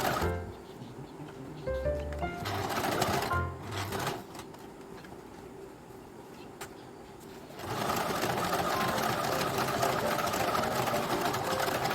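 A sewing machine stitches a princess-cut deep-neck blouse in rapid mechanical bursts, starting and stopping, then running steadily for the last few seconds, close and fairly quiet.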